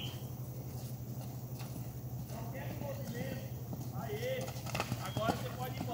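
Horse hooves clip-clop steadily through show jumping training, a rhythmic gallop beat with a constant hum underneath, continuing beneath a rider talking throughout.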